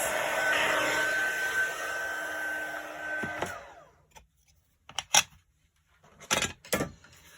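A heat gun blows a steady, loud whooshing stream while heat embossing a card, then cuts off and gives way to a few light clicks and handling taps.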